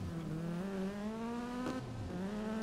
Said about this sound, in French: Alors, la Mini est sympa au niveau du bruit.